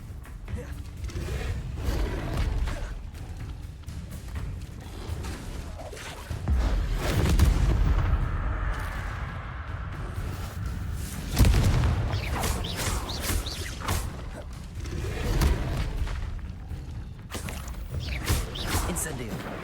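Explosive Confringo spell blasts from the Hogwarts Legacy video game, heavy booms and crackling bursts landing every few seconds over game sound and ambience, with a player calling out spell names.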